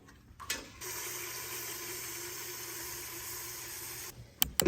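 Water pours from a tap into a container in a steady rushing stream lasting about three seconds, close and clear, with brief handling clatter before it starts and after it stops.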